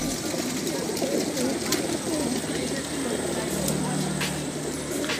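Racing pigeons coo in a crowded, continuous murmur before release at a club race in Gapan, Nueva Ecija, close and loud, with someone talking over them.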